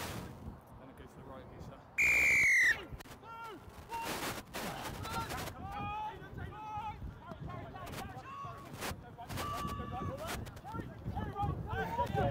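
A referee's whistle at a live sports match blows one sharp, loud blast near the start, over a busy outdoor mix of crowd noise, thuds and shouting voices.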